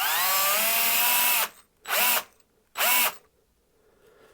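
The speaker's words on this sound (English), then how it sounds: "I'm going to get the other end into the chuck of my drill" A power drill spins a length of wire clamped in a vise at the far end to straighten it: one sustained whine of about a second and a half, then two short, sharp bursts, loud and close.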